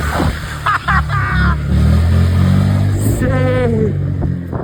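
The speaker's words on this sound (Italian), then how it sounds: "Che sta venendo la macchina di faccia!" A car on a Naples street coming head-on, its engine rising and falling close by beneath loud, overlapping shouting voices, with a brief burst of revving near the middle.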